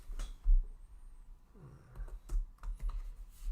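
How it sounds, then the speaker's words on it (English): Scattered keyboard taps, irregular and fairly close, with a few louder clicks and brief pauses between bursts. "I hope I'm not typing the same equation"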